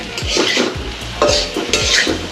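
Potatoes being sautéed in a pan are stirred in quick repeated scrapes of a utensil against the metal, with a light sizzle underneath, close and fairly loud.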